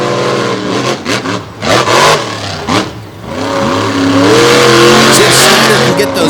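Ford monster trucks at a Lake Erie show roar and rev on a wet track, loud close engines rising and falling in pitch, with an announcer talking over them.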